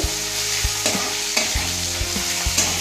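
Onions fry in a pan for a coconut curry, a dense continuous sizzle up close, broken by regular soft knocks as a spatula stirs them.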